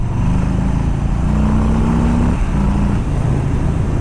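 A 2018 Harley-Davidson Softail Street Bob accelerates hard to overtake, its loud, rumbling engine rising in pitch through gear changes beneath steady wind noise, recorded from the rider's position with no speech.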